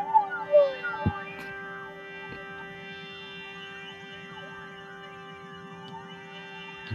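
Dry, steady Roland JV-1080 synthesizer tone with no chorus effect, holding a sustained chord after a few brief chirps, clean and unwavering.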